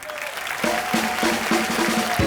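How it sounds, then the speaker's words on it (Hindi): Studio audience applause on a Hindi TV comedy show, a dense, steady burst of clapping mixed with some tonal crowd or music sound, no speech. "जोरदार तालियां से शुक्रिया अदा करता हूं ऋतिक रोशन, आशुतोष और पूजा का"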